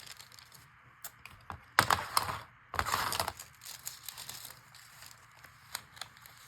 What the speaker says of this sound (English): let's get it stapled